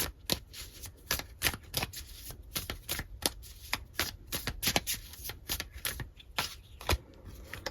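A deck of tarot cards being shuffled and pulled for a love reading, with rapid crisp riffling snaps in a dense irregular rhythm, close and fairly loud, no voices.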